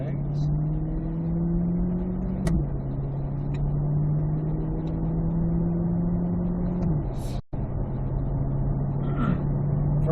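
A Corvette C8 Z51 on a slow lap around a race track, its engine holding a steady low drone heard from inside the cabin, with a brief gear change and a few clicks.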